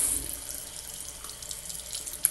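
Cool tap water running into a sink to rinse an American Girl doll's hair, a soft steady splashing stream with a small spatter near the end.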